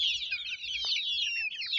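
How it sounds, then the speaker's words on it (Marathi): Free-range desi gavran chicks chirp and cluck in a rapid, high, overlapping chatter, close by and continuous. "हे बघा पिल्लं बघा"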